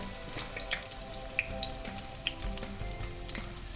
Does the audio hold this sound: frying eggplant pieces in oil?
yes